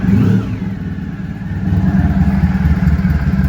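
A Honda ST1100 motorcycle engine idles steadily at about 850 RPM, a close, continuous low rumble with a faint lift in level partway through, no voices.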